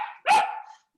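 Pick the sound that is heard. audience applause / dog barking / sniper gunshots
dog barking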